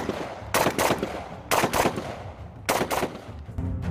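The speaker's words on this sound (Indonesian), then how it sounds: "mampu menghasilkan rata-rata tembakan hingga 650 butir peluru per menit" An assault rifle fires three sharp bursts of automatic gunfire, each a quick run of loud, cracking rounds separated by roughly a second of quieter echo.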